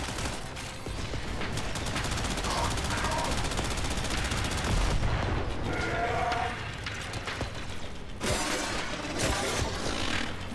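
Rapid gunfire from the Warframe shooter game on the Orb Vallis map, dense bursts of shots layered with mechanical game effects and some voice-like sounds, staying loud throughout.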